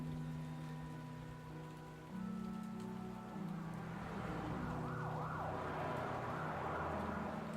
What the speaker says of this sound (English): Another rainy day in Gotham,